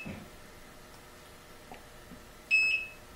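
One short, high electronic beep from a Rosewill REGD-6361 stud detector locating a stud, sounding near the end against a quiet, faintly noisy background.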